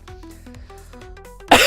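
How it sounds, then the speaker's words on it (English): A single sharp cough bursts out at the very end, loud and close, over a quiet bed of melodic video-game music in an indie murder-mystery game. "You needed a better cough there."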